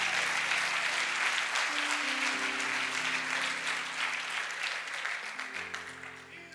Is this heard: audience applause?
yes